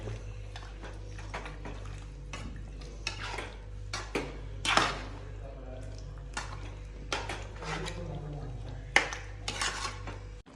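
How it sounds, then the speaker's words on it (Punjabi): A spoon scrapes and clanks against a pot as mutton is stirred and roasted with spices over high gas, with irregular metallic knocks over a faint sizzle and a steady burner hum. "ਹੁਣ ਇਹਨੂੰ ਆਪਾਂ ਤੇਜ਼ ਗੈਸ ਤੇ ਮਸਾਲੇ ਦੇ ਨਾਲ ਮਿਕਸ ਕਰਕੇ ਭੁੰਨਾਂਗੇ"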